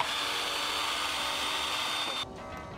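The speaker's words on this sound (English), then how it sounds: "Real men love power tools." A power tool whirs with a high, steady motor whine for about two seconds before cutting off abruptly, leaving a quieter background.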